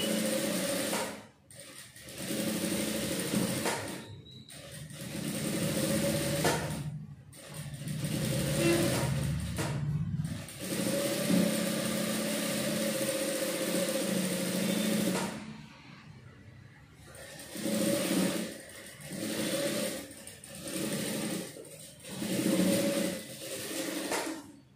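A sewing machine stitches a blouse neckline in bursts of steady whirring, with short pauses between runs, close and fairly loud throughout.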